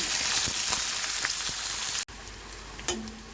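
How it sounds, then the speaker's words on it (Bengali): Thinly sliced onions fry in oil for a fish curry with a loud, dense sizzle, briefly cut off and then resuming more quietly with a soft stir. "পেঁয়াজটাকে ভালো করে ভেজে নেব।"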